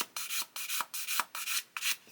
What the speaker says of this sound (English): just going over there and just gently sanding